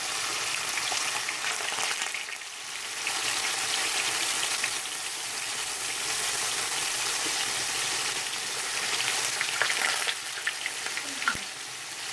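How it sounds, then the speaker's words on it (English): Tofu frying in oil in a pan over a turned-down flame for a stir fry, giving a steady, close sizzle and crackle that runs throughout with small pops and no talk. "we're just gonna go ahead and put our tofu in the pan and turn down the flame"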